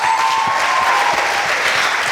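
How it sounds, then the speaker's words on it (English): Audience at a women-in-film awards ceremony applauding the winners, loud dense clapping from a sizeable crowd, steady for the whole brief stretch. "Please give a hearty clap to all of our winners tonight."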